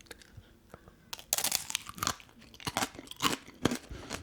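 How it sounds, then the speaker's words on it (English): Crisp hawthorn fruit is bitten and chewed up close, a run of sharp, irregular crunches that grows denser and louder after a quieter start, with no talk. "For everyone out there who just is here to watch crunchy things, I'll give you some crunchy things."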